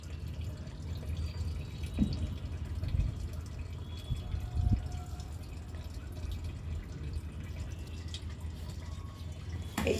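Water drips and trickles off washed sponge gourd pieces left to drain in a home kitchen, a soft, steady patter with a few brief louder drops, close by and with no talking.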